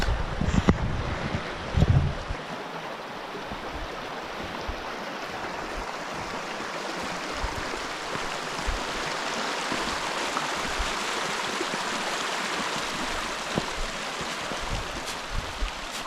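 Flowing river water heard outdoors in grizzly country during a crossing on foot, a steady broadband rush of the stream with wind buffeting the microphone, a few splashy bumps near the start, no talking.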